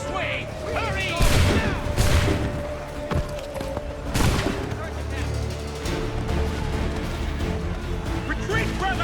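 Soldiers firing muskets in Assassin's Creed 3 battle, loud gunshot cracks and booms bursting out over a busy din of combat noise and shouting voices.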